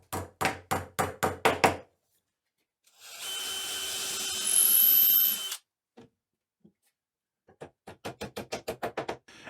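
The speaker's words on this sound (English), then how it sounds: "I'm actually nailing these blocks in place with 1/4 inch dowels." Quarter-inch wooden dowels hammered into workbench blocks: a quick run of six sharp knocks, a stretch of loud power-tool whine, then another rapid series of about nine hammer blows, close and dry.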